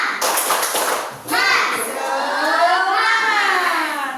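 Children in a third-grade classroom clap in a quick rhythmic pattern and chant together, loud and lively, with a teacher's voice mixed in among the young voices.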